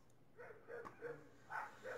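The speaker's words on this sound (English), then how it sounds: "dogs outside across the street from me and my dog barking at them" Several dogs bark outside across the street while a nearby house dog barks back, giving about five short, moderately loud bark bursts in an uneven rhythm, with no talking.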